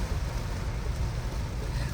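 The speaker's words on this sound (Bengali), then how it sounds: "আর বাইরে কিন্তু প্রচন্ড বৃষ্টি হচ্ছে" Heavy rain heard from inside a car on a night highway journey toward Balasore, Odisha, a dense continuous wash of drumming over a low road rumble, close and steady.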